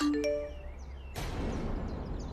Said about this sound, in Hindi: ये फोन की आवाज।